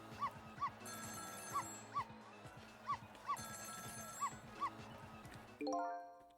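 A telephone rings in a repeating bell pattern while a dog yips and whimpers in short bursts, followed by a sharper tone at the end.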